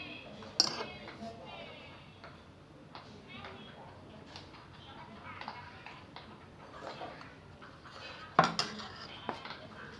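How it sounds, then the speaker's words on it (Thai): A spoon scoops frothed milk foam into a glass, with soft scraping and a few sharp clinks against the glass and jug, heard faintly under light background noise. "เราก็จะมาตักใส่แก้วกันค่ะ ฟองละเอียดเลย ตักฟอง แก้วเลย"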